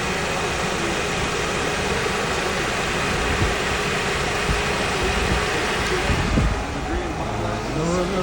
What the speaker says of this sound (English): My fan is on from the startup.